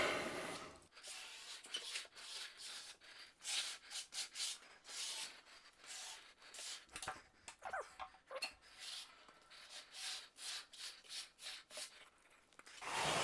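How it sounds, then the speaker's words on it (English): A squeegee spreads grout over a ceramic tile backsplash around a bathtub, giving close, rhythmic rubbing and scraping strokes that repeat steadily with short pauses and no talk. "Just squeegee it into any of the cracks."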